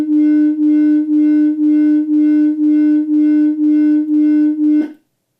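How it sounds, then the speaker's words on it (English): Two pure tones combined into one signal, giving a steady loud hum that swells and fades in about ten even beats, roughly two per second, then cuts off abruptly. "I have crafted a wave signal which is an addition of these two tones, and this is what you will hear."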